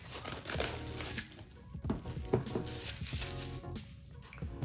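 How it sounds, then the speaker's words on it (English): Plastic wrapper crinkling and tearing off a Snoopy Funko Pop box, close and fairly quiet, with irregular rustling bursts and crackles throughout. "Let's get that plastic off of there."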